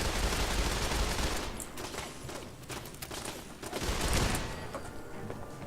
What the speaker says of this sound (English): Probably not the best idea to mag dump even from that range because it just seems to lose its targeting